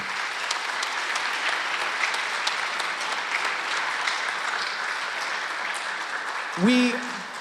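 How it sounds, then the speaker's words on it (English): Audience applause at a high school spring band concert, a long steady wash of clapping in a hall, with a voice speaking briefly near the end. "can you give those people a very, very hearty round of applause?"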